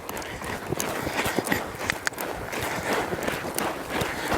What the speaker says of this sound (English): We got some horses walking up.